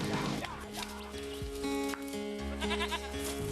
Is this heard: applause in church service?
no